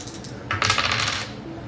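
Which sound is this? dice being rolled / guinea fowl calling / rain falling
dice being rolled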